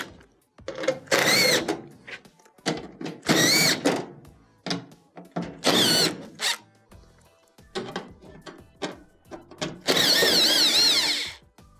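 A power driver backs out quarter-inch screws from the rear plate of a GE dryer, giving four loud close whirring bursts separated by clicks and handling noises.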